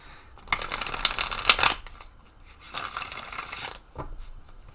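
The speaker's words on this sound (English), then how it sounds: "let's give these a good shuffle" Tarot cards being shuffled close up in two crisp riffling bursts, followed by a brief tap of the deck.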